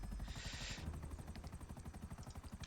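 Rapid rotor thumping of a helicopter in the video game GTA, steady and fairly close, with a brief hiss of noise near the start.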